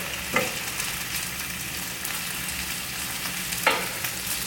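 Homemade breakfast potatoes fry over high heat in a pan with a dense, constant sizzle, broken twice by a quick scrape as they are stirred and turned.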